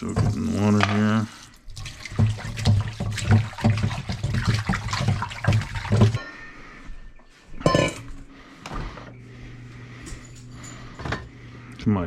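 Water splashes and trickles in a sink, with sloshing and dripping in bursts, then quieter dribbles near the end.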